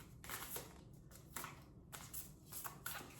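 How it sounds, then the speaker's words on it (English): Tarot cards are shuffled by hand in a quiet room, a faint, close sequence of soft riffling bursts and slaps coming in irregular spurts a fraction of a second apart, with no talking. "These cards are hard for me to shuffle this way."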